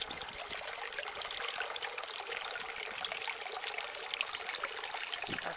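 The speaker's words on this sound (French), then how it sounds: "Ici, la fontaine solaire avec trois bassins de différentes tailles." A solar garden fountain feeding three pools of different sizes trickles and splashes steadily, a soft continuous babble of falling water heard close with no voices.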